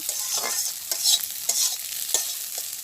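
Scrambled egg frying in a pan in a village kitchen, stirred with a steady scraping rhythm over a constant bright sizzle, close and moderately loud, with no voices.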